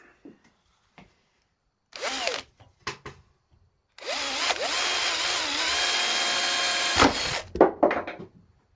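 An electric drill bores into a handle being made for a ferro rod, with a few short whirring bursts and then one steady high-pitched run of about three seconds, followed by clicks and handling noises.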